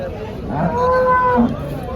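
A cow moos once in a drawn-out, nasal low call at a cattle market in Chalisgaon, close and loud over a murmuring crowd background.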